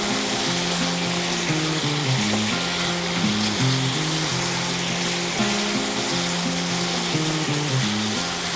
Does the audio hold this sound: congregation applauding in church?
no